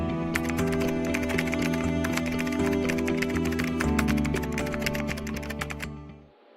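Rapid, steady typing on a computer keyboard while code is written, dense close-up key clicks running for several seconds without pause before stopping abruptly.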